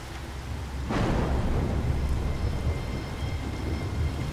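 Steady rain in the video game Fatal Frame: Maiden of Black Water hisses continuously, swelling into a heavier downpour with a low rumble after the first second, with no talking.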